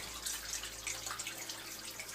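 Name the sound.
garden waterfall trickling into goldfish pond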